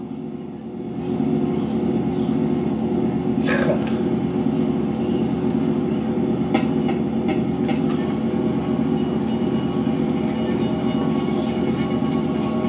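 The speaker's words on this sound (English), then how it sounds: "Get the train running faster!" A train in the video game GTA San Andreas rumbling along steadily with a low, continuous roar and faint rhythmic clatter, joined by a few brief metallic squeaks and clicks.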